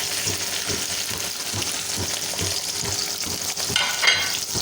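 Chopped okra fries in hot ghee for bhindi masala, producing a continuous close sizzle with repeated soft stirring scrapes in an even rhythm, steady in loudness and free of speech.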